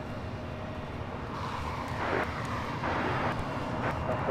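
Airliner at LAX taking off or taxiing on the south side, a steady broad jet roar that swells slightly midway, heard from a distance and alone.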